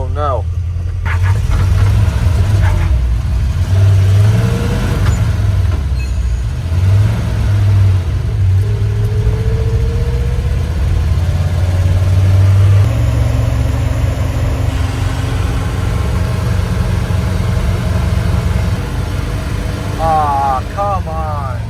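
An old Chevrolet K10 pickup truck, off the road for decades, drives along with a steady low engine drone and mild revving, heard close and continuous from inside the cab with occasional voices.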